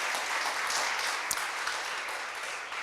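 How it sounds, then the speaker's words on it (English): A room full of people at an awards luncheon gives a sustained, even round of applause, a dense wash of clapping that holds steady for about three seconds with no one speaking over it. "That's worth a round of applause by itself."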